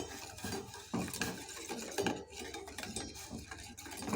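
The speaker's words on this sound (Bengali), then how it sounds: "এবার এটাকে ভালোভাবে নেড়ে নেব" A spoon scrapes and clinks around a pot while powdered milk is stirred into coffee, with repeated knocks against the metal sides and steady swirling noise throughout; no one speaks.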